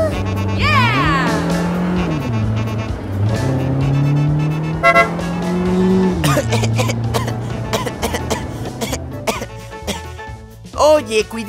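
A cartoon car drives past in a children's animation, with a rising and falling engine tone plus a horn-like toot, followed by coughing and animated character voices over music.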